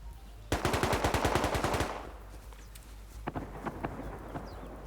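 An M2 machine gun in the video game Rust fires a rapid burst of about a dozen loud shots, followed by a few scattered, fainter shots and background noise.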